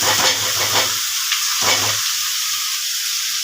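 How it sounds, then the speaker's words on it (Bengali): Potatoes and onions fry in hot oil left over from frying fish, with whole garam masala, giving a close, steady sizzle and hiss broken by a couple of low stirring thumps. "তো সেটার মধ্যে এই আলু আর পেঁয়াজটাকে ভাজতে হবে।"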